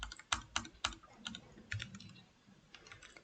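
Computer keyboard keys tapped while writing Flutter code, a quick irregular run of close, crisp clicks that thins out toward the end, with no voice.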